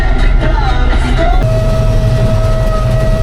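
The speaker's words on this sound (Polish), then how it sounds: "Pociąg jedzie," Train rumbling past a closed rail crossing beside a harvest field where a Sampo Rosenlew 360 combine is working, a loud heavy roll with a steady crossing tone ringing through it.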